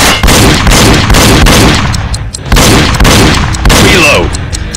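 Wii shooting game Reload gunfire: loud, repeated blasts in uneven bursts, each shot a sharp broadband crack, with brief lulls between volleys and game voice announcements layered underneath.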